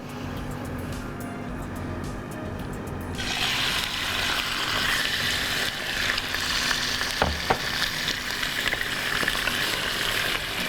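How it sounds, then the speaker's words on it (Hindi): Chicken liver fries on high flame, a steady sizzle that swells after a few seconds into a fuller, close crackle with occasional stirring knocks, and no talking over it. "हम इसको पहले हाई फ्लेम पे अच्छा सा फ्राई कर लेंगे।"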